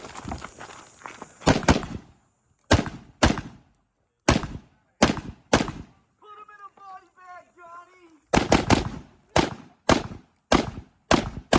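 An M+M M10X Plus rifle fires a string of sharp, loud reports, a dozen or more at uneven intervals with brief gaps. Someone talks briefly in a pause midway through the shooting.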